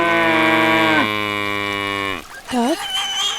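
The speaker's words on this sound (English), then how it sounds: "cow," A cow gives one long, loud, steady moo lasting about two seconds, ending with a short dip and then a brief lower bellow, heard up close with no talking.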